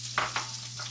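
Fennel and other vegetables sizzle in a hot skillet, a steady frying hiss with a couple of brief stirring scrapes, close and alone.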